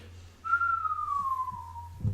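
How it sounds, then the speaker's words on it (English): A single clear whistled note slides slowly downward for about a second and a half, fairly close and alone against a quiet hum. "What, my dodgy whistling?"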